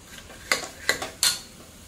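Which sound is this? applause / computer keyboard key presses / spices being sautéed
spices being sautéed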